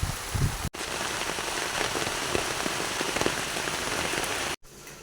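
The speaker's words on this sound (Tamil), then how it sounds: "மழை பயங்கரமாக மழை பெய்யுது வெளியில்" Heavy rain pours down hard and close, a loud continuous drumming on a surface, briefly cut off near the start and again near the end.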